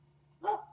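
A single dog bark in the background during an online election debate, one short, moderately faint woof rising out of a quiet room hum partway through.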